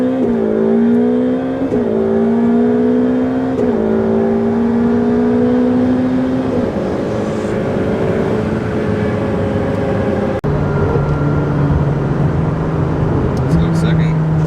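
A car's engine pulls in second gear, its tone rising in steps with gear-change dips, then settling lower. People talk over it throughout.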